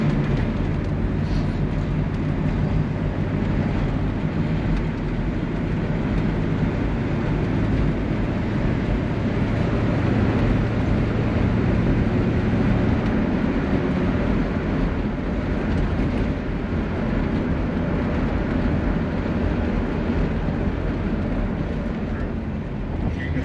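A 1966 Chevy Impala SS survivor car with a small block V8 runs with a steady, mellow low rumble throughout, a continuous engine drone with faint background talk mixed in.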